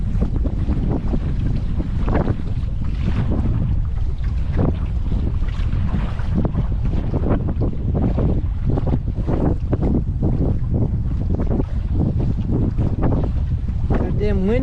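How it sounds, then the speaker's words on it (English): Constant heavy wind buffeting the microphone on a boat ride near Hoover Dam, a loud rumbling roar throughout with faint voices underneath. "If damn wind could die down, I wouldn't mind at all."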